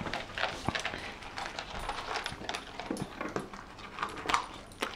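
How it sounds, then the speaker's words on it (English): Puppies eat their food close by, with a busy jumble of clinking bowl taps, crunching and licking, and small scattered clatters throughout. "Puppies are having their food."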